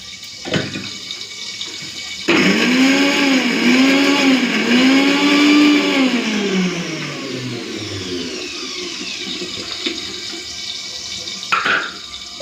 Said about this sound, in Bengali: এখন আমি মশলাটা বেটে নেবো আদা রসুন আর কাঁচা লঙ্কা নিয়ে নিয়েছি